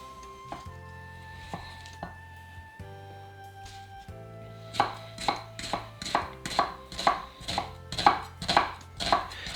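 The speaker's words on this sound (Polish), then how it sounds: "Kroimy ją w kostkę po prostu." A knife chops an onion into cubes on a board, about a dozen sharp, evenly spaced strikes building up in the second half after a few lighter cuts, close and clear with music playing softly underneath.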